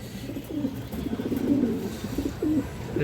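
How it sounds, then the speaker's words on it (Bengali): Pigeon of an old Bengali fancy line, a silver-colored bird, coos near and steady in repeated soft throaty phrases with no talk over it. "কবুতরটা দেখেন অনেক সুন্দর কবুতর"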